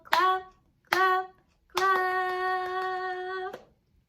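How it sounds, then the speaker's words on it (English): Hands clap along in a children's action song, two short bursts followed by a longer sustained tone, with nobody speaking. "Do a little clap, clap,"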